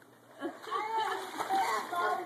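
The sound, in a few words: splashing in water while swimming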